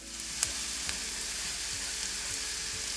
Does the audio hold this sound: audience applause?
no